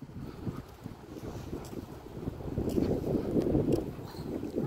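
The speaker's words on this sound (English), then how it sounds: "Kind of windy out here." Wind blows outdoors along a street in St. Catharines, rumbling and buffeting the microphone in low gusts that swell toward the end; no speech.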